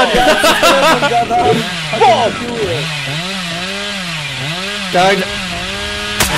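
A chainsaw revs and whines in wavering, rising and falling bursts in the horror game Dead by Daylight, loud and close, with players talking over it throughout.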